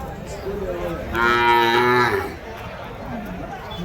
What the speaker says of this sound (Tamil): மாடு நல்லா சூப்பரான மாடுங்க.